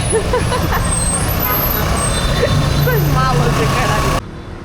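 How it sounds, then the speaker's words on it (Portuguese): Dense road traffic of cars, trucks and buses on a street in Vietnam makes a loud, steady engine roar with occasional brake hiss, and voices can be heard talking nearby. "Estamos no trânsito junto com os carros."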